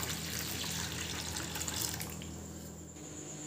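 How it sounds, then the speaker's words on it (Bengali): Warm water pours steadily into a bowl, a continuous close splashing rush that eases slightly toward the end, with no talking. "এই যে একটা বাটির মধ্যে আমি জলটা ঢেলে নিচ্ছি"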